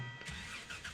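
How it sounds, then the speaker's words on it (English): A truck engine starts in the Gold Rush video game, cranking and catching into a steady mid-pitched idle that runs through a brief, moderately quiet moment. "Jump back in, turn on the engine"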